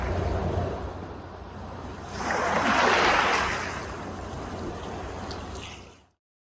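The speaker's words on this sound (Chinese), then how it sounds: "海浪的声音很好听" Ocean waves wash onto a beach at night in a steady roar, with one surge swelling louder in the middle before the sound cuts off abruptly at the end.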